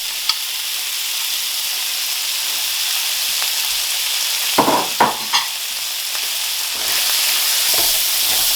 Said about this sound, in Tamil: அதுக்கு பிறகு இந்த இறால் இதுக்குள்ள ஆட் பண்ணி அதையும் குக் பண்ணுங்க.